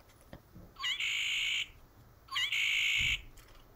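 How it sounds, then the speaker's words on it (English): A Wild Republic plush red-winged blackbird toy plays its recorded call twice, each a bright buzzy trill lasting under a second with a short lead-in note, fairly faint over a slight static hiss and nothing else. "This is my red-winged blackbird."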